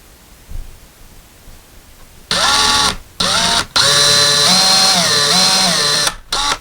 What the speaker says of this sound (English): we're just going to pre-drill this just a little bit